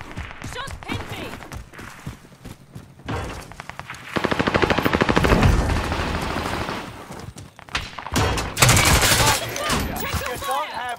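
Rapid machine-gun bursts from a video game firefight, loud and close, firing in repeated volleys between shouted voices calling out over the action.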